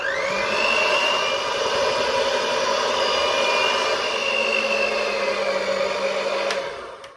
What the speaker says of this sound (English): It's been mixing for a little while